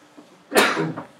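A single sharp human sneeze, close and loud, bursting out briefly in an otherwise quiet room during a classroom lesson.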